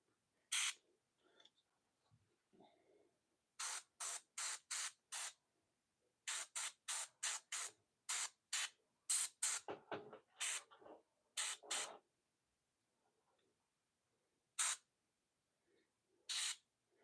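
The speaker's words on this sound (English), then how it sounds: "5 bases sprayed." An aerosol can sprays paint onto miniature bases in quick, close, hissing bursts, mostly short and in rapid runs with brief pauses between them, and quiet stretches around them.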